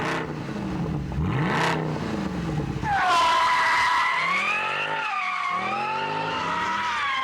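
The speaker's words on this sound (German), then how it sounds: "kommt der C63 donnernd um die Ecke gebollert" Mercedes C63 AMG sports car thundering around a corner on a test track, tyres squealing loudly, then a roaring V8 engine revving hard with rising and falling pitch as it accelerates away, close and loud.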